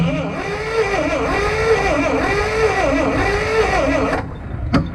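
A Lull forklift rescued from a junkyard cranks as its key is turned, the starter whirring in a steady rhythmic wavering drone. It cuts off near the end, followed by a sharp click.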